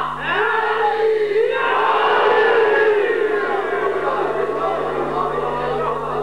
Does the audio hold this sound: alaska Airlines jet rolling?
no